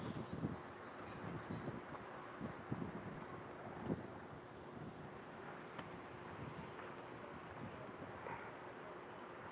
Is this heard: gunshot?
no